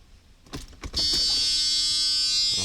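The electronic throttle bodies of a Mercedes 600SEL hum once the ignition is switched on, a steady tonal buzz starting abruptly after a few clicks and handling noises and holding loud and constant.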